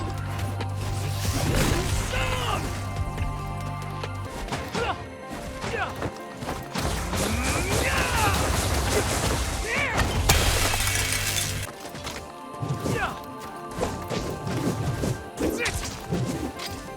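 Heavy melee attacks in the action game Romeo Is a Dead Man land as loud, repeated crashing and shattering impacts with thudding whacks, dense and close over a busy soundtrack.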